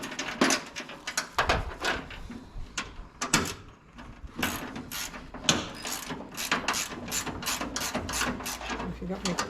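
Ratchet tightening a bolt while fitting a summer top on an M38A1 jeep, close rapid bursts of pawl clicking repeated many times with short pauses between strokes, a voice faintly present at times.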